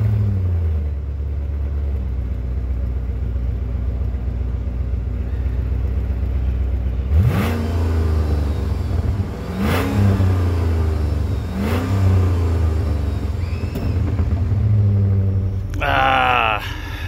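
A 2002 Jeep Grand Cherokee WJ Overland idling, then cranking into several loud revs that rise and fall close by, with a brief voice near the end.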